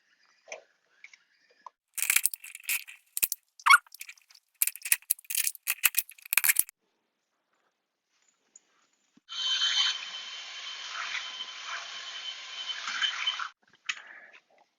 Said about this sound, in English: Now we're going to cut the holes for the wicks and the plastic pots.